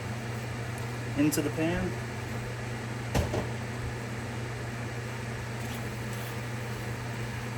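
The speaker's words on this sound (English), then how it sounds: "Sorry for all the noise. Turn that fan off." A kitchen exhaust fan hums steadily throughout while pasta cooks in a pan, with a couple of brief clatters and a voice speaking briefly over the drone.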